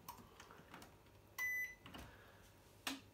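A Hisense WFQP washing machine gives one clear, steady electronic beep of about a quarter second as its service mode is entered, with quiet room noise and a few faint clicks around it.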